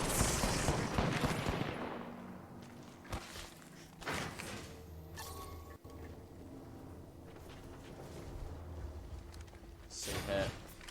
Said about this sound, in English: Some gunfire, the flat line of Teddy finding the mark a little bit here.